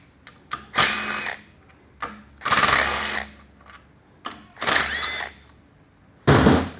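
Power drill or driver spinning out 10 mm bolts from an automatic transmission accumulator body, four separate loud whirring bursts, each preceded by brief clicks, close up with pauses between.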